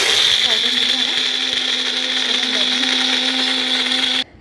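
A kitchen mixer grinder whirs continuously at high speed while coarsely grinding fox nuts (makhana), loud and close, cutting off abruptly at the end.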